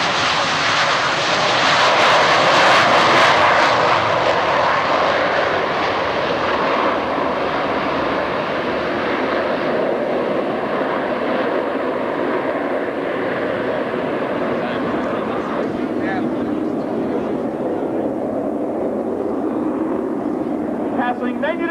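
The US Navy Blue Angels Diamond formation of jets takes off at the 1996 Cleveland National Air Show, making a loud, sustained roar that swells early and slowly fades as they climb away, with an announcer speaking over it.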